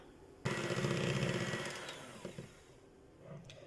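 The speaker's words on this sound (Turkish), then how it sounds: "Şimdi bir çay bardağı şekerle 3 yumurtayı köpürüne kadar çırpacağım mikserle" An electric hand mixer whips three eggs with sugar, whirring loudly and steadily for about a second and a half, then its motor winds down and it stops, leaving quiet clatter.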